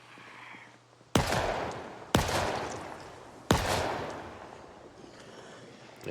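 Three sharp pistol shots from the Project Zomboid video game ring out about a second apart, each a loud crack with a short decaying tail over a faint background hum.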